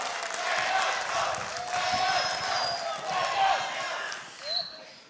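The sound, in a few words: audience applause at a debate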